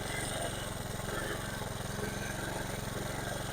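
A small walk-behind mini tiller powered by a brush-cutter engine runs steadily up close, its two-stroke motor droning and buzzing continuously.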